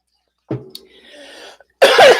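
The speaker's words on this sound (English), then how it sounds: "I'm coughing here" A single person coughs once up close, followed by a short pause and then a harsher, louder cough burst.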